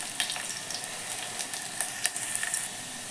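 Curry leaves and garlic frying in hot oil for a sambar tempering give a steady, close sizzle, broken by frequent sharp crackles and pops, with no talking.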